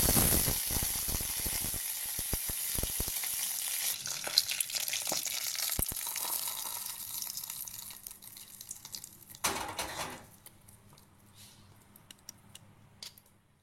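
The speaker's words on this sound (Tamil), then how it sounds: "ஒரு கடாயில் எண்ணெய் ஊற்றிக்கலாம். எண்ணெய் காஞ்சோடனே கடுகு, 2 வரமிளகாய்," Mustard seeds, two dried red chilies and curry leaves tempering in hot oil in a kadai, a bright hiss and crackle with quick popping ticks early that fades to a quieter simmer.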